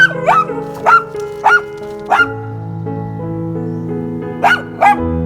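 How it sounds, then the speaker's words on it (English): A dog barks in short, sharp bursts, several in quick succession, then a pause and two more barks, close and loud over a low steady hum. "And he barks at them."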